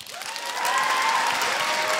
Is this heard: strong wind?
no